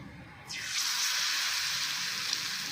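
Egg pieces coated in batter dropped into hot oil in a wok, a sudden loud hiss that swells into a steady close sizzle and continues alone.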